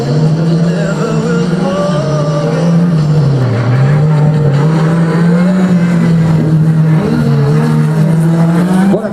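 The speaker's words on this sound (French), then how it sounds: "c'est parti pour le Mayennais Gérald Hervé avec cette Tatus FR 2000" A Tatus FR 2000 single-seater race car revs steadily at high engine pitch during a slalom, loud and close throughout, with slight dips and rises as it shifts and accelerates.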